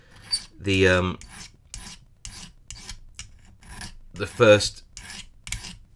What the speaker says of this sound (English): give it a rub with some sandpaper